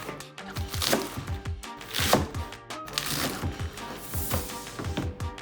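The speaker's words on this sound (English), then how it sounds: "Cut the lettuce." A knife chopping lettuce on a cutting board for a homemade crispy chicken burger, with quick, steady rhythmic cuts up close and no talking.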